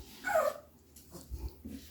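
An American Bully dog gives a short, high whimper close by, followed by a couple of faint low snuffling sounds in a quiet setting.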